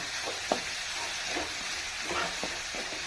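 Onion, green chili and cabbage frying in a pan, a steady soft sizzle with light scraping clicks as the mix is stirred, close and fairly quiet.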